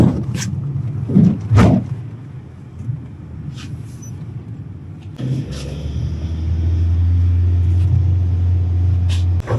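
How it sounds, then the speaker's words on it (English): City bus ride out of Tbilisi toward the outskirts: a few knocks and door clunks at first, then a steady low engine drone and road rumble that grows louder and holds through the second half. "Just got on a bus and it will take us to the outskirts and drop us on a highway"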